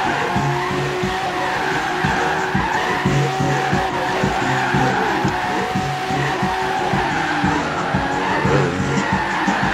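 The 877 hp Regalia car in Forza Horizon 3 drives hard and skids, with a steady engine roar and continuous tire screech that stays loud and close throughout.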